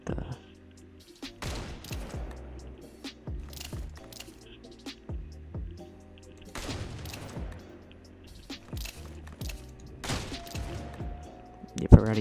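Minigun fire in the online shooter PUBG, a few rapid bursts of gunfire among scattered shots and thuds at moderate level over game ambience, with some talking mixed in.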